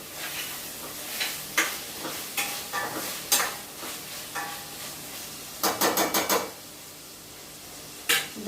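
Fish gravy with onion, ginger-garlic paste and tomato stirred in a pan: a spoon scrapes and knocks against the metal in irregular bursts, with a quick cluster of rattling strokes near the end, over a soft sizzle.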